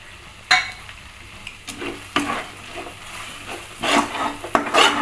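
Coarse peanut powder frying in a pan for peanut garlic rice: a low sizzle under repeated scraping strokes of a spatula, with sharper rasping stirs now and then, close and fairly loud, no speech.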